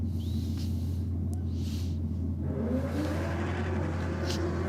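A Holden Commodore race car launches off the start line at a drag race, its engine roaring steadily and rising in pitch as it pulls away, with crowd and commentary faintly underneath.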